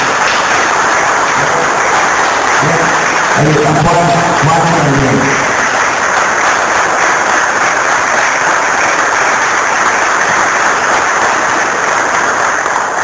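An audience applauds at the fifth international congress, where a Guarani language and culture group from San Pedro, Jujuy is presented. Dense, hissing clapping runs steadily throughout while someone speaks briefly over it early on.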